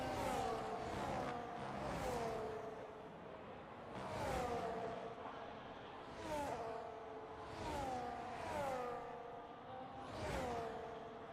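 Race cars lapping the Belgium circuit in a racing video game, engines whooshing past one after another in repeated passes with falling pitch, each rising and fading at moderate distance.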